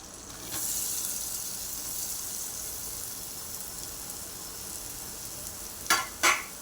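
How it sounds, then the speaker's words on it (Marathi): Onion frying in melted butter for an egg ghotala breakfast: a soft, even sizzle runs throughout, closing with two quick metallic clinks of a utensil against the pan. "बटर वितळून घेऊया नंतर टाकूया कांदा"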